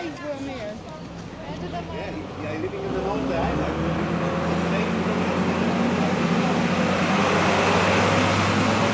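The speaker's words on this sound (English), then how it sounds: "Good grief, that truck is noisy." A noisy truck passes on a street in Puerto del Carmen, a low rumbling engine drone that builds and grows louder and steadier over several seconds, with speech over the top early on.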